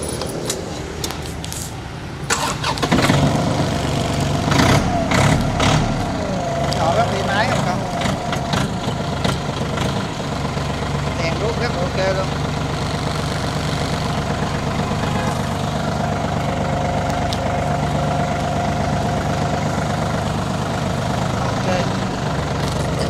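Diesel engine of a John Deere 3036 tractor runs at a steady idle close by, a low rumble that goes on without a break. Someone talks over it throughout, and faint metallic rattles and clinks sound near the start.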